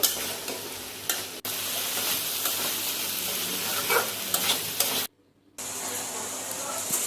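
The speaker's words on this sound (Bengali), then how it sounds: "আলু কেটে নিচ্ছি, ফ্রেঞ্চ ফ্রাই করে দেবো" Constant crackling sizzle of potato strips deep-frying as French fries in oil, close up, with occasional stirring clinks, an abrupt cut to silence, then the frying resumes.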